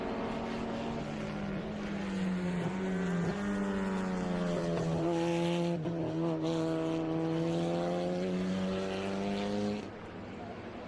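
Vintage race cars at Mid-Ohio roar past one after another, their engines howling with rising and falling pitch as they sweep by, steady and loud before dropping away near the end.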